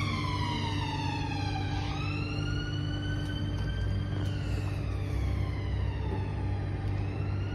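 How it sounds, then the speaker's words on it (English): An ambulance siren wails past in a loud, steady rising-and-falling sweep over the constant rumble of a laundry washing machine, with the pitch dropping as the vehicle goes by. "Oh, an ambulance."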